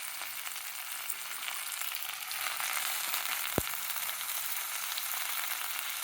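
Washed fenugreek leaves, home-grown on a terrace garden, fry in a pan with a steady, loud sizzle that hisses on throughout, broken by one sharp clack near the middle.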